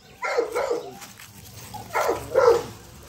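A dog barks in excitement, eager to play with its puppies. Two pairs of close, loud barks come early and again near the end, with a brief whimpering pause between.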